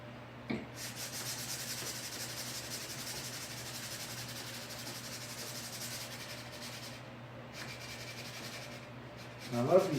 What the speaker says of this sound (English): I love these sanding sponges because they keep that round surface really smooth because it molds to the surface you're sanding.